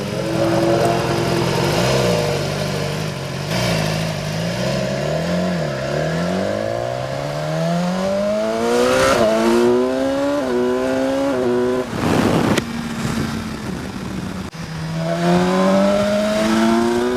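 A 2016 BMW S1000XR motorcycle engine revs and climbs through gears again and again, pitch sweeping upward with each pull, loud and close, with a brief burst of noise midway.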